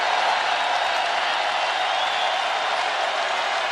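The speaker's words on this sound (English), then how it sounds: "So he'll say goodbye and listen to the crowd." A basketball arena crowd at a college men's tournament semifinal between Baylor and Iowa State roars and applauds in a dense, steady wash of noise with no breaks.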